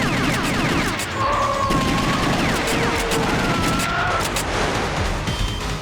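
Gunfire in the arcade shooter The House of the Dead 2, a dense continuous barrage of shots and impacts over game noise, loud and steady throughout with no talking.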